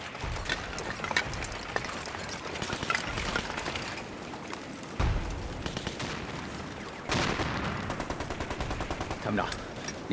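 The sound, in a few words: gunfire in battle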